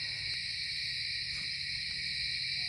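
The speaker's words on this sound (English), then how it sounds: "Now the owl's over there." An owl hoots softly in the woods at night at a campsite, low calls set against a constant high drone of insects.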